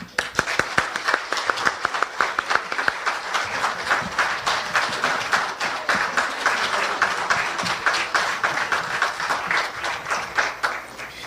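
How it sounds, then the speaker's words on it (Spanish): Sustained audience applause at a book presentation, dense steady clapping from a crowd filling the room, loud and close, running throughout without a break. "creo que pedimos una renovación del aplauso"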